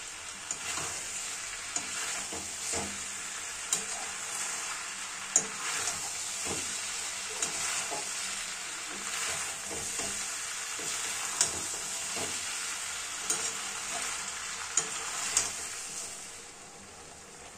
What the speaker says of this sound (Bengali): ভাজা চিকেনগুলো সব কিছুর সাথে খুব সুন্দরভাবে মিলিয়ে মিশিয়ে নেব।